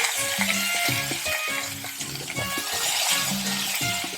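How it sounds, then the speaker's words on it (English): Onions and carrots frying in a pan give a steady, close sizzle, a continuous hiss with a tonal background hum running underneath. "Just kind of brown the onions, soften up the carrots a little bit."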